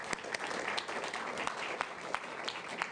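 An audience claps in a steady, dense patter of applause with a few sharper individual claps, fairly close and filling the whole moment without a break.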